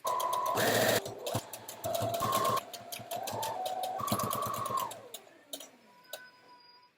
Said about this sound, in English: I'm also going to just continue sewing around the circumference of this mask, just to give it some extra strength